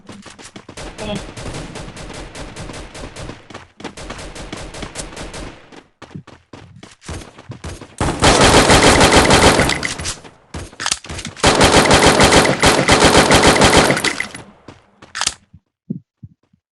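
Rapid automatic gunfire bursts rattle loudly in a video game, several long sustained volleys separated by short pauses, ending with a few scattered single shots.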